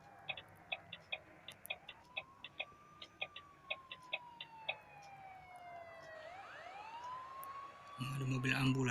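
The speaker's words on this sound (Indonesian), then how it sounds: "Ada mobil ambulans." In the Android game Bus Simulator, an ambulance siren wails with a sliding rising and falling tone over a rapid ticking indicator, followed by a louder rumble near the end.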